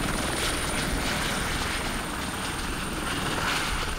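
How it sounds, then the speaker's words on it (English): A helicopter bringing a crew back to a remote camp in bad weather, its rotor and engine roaring loud and close in a steady, unbroken wash of noise throughout. "the helicopter came back with the rest of the crew"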